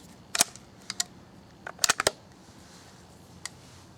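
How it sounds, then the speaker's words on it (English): An old .22 rifle being dry-fired to test its trigger gives crisp, close mechanical clicks, one near the start and a quick cluster of three or four in the middle, then a lone final click in a quiet room. "now let's check the trigger pull"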